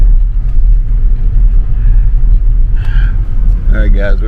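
Car interior rumble while driving around a hometown, a steady low engine and road drone throughout, with faint background sounds appearing near the end.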